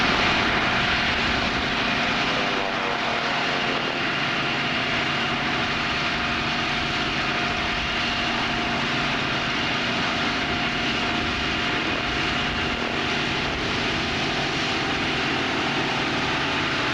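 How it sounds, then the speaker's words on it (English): A propeller aircraft taxis toward the listener on an airfield, its engine drone a steady, even hum with a faint tonal whine that continues without a break for the whole stretch. "what's this aircraft I can see that's taxiing towards us right now?"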